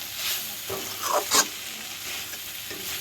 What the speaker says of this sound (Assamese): এতিয়া অকণমান লৰাই আলুখিনি দি দিম ইয়াতে